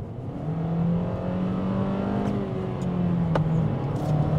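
A new Kia Cerato engine roars loudly and steadily as the car accelerates, with rising engine tones heard from inside the cabin and no talk.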